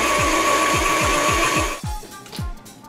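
Chocolate chip cookie dough brownie batter being mixed, with a steady motor whir and a regular series of dull low thumps that slow and fade as the mixing stops.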